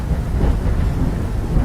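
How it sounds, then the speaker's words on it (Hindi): Heavy rain and thunder in a cartoon storm over a forest, a brief, loud low rumble mixed with dense rushing hiss of downpour, steady with no voices. "बारिश इतनी तेज थी कि पूरे जंगल में बारिश का पानी बहने लगा।"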